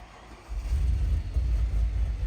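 A low, rumbling idle from an Audi RS6 V10 with over 200,000 miles that is running rough with fault lights on, close and steady after a quieter start, with an uneven throb.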